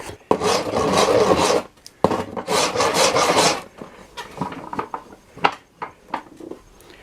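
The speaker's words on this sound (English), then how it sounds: "I'll rasp the width down a bit and then take a bit off the belly to get rid of that tear" A rasp files down the belly of a primitive yew bow in long, steady scraping strokes, first two sustained passes, then shorter lighter rubs and taps.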